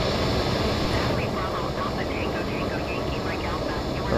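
An airplane engine in a flight simulator video game roars steadily and loudly during takeoff, with a constant droning hum and a voice talking over it throughout.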